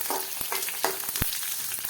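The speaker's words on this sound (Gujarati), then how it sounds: "અને સારી રીતે આપણે તેને સાતળી લઈએ।" Mustard seeds, white sesame and curry leaves sautéing in a spoonful of oil, a close, continuous frying sizzle punctuated by sharp pops and crackles at irregular intervals.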